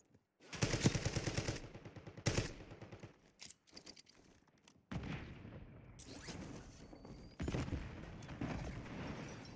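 Loud automatic gunfire in the battle royale shooter Warzone, several rapid rattling bursts with single sharp shots between them, close and dense, then a fresh run of firing after a short lull.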